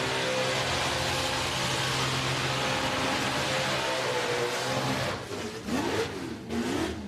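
High-RPM car engine screaming at Summernats, a sustained loud rev held near the limit before the pitch drops and wavers with a few short blips.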